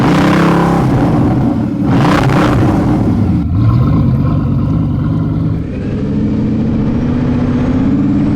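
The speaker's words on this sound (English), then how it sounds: "Now I have the Porsche in front of me instead." A Porsche sports car accelerates just ahead on the road, its engine note rising in a loud, sustained roar that climbs in pitch through the gears and fills the whole stretch without pause.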